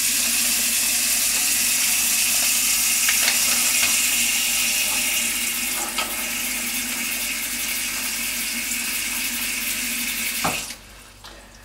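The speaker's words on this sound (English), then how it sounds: "I put it on top and then just add water." Water pours steadily into a container holding a delicate Gardner ball, a continuous hissing splash that runs for several seconds before cutting off sharply near the end.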